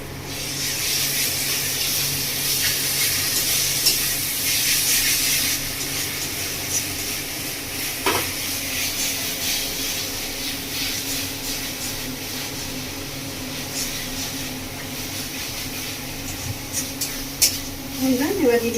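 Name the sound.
ground spice paste sizzling in pan, chicken curry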